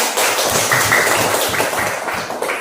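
A classroom group claps in steady applause, a loud, dense patter of many hands that holds evenly for a couple of seconds before easing slightly.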